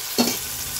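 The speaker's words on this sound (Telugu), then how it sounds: "ఆనియన్స్ ఫ్రై అయిన తర్వాత టమాటో యాడ్ చేస్తున్నాను." Onions and tomato frying in a pan give off a brief scrape of a stirring spoon over a steady background sizzle. The stir is close and sharp, lasting under a second.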